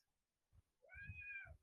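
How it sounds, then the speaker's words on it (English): A cat inside a room lets out a single clear meow, rising then falling, faint and close, with a few soft low thumps around it and no talking. "I hear a cat."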